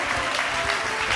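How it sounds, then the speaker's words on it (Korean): Steady audience applause at a Christian musician contest in a church, dense and continuous, with many hands clapping at once and no pauses. "여러분 다시 한번 뜨거운 박수 보내주십시오"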